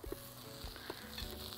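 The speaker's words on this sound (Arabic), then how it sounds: "وهيطلع على الشواية يتشوي، تمام. الشواية سخنة" Faint, crackling sizzle of seasoned shrimp cooking on a hot grill, a low continuous hiss with scattered soft pops over a short moment, no voices.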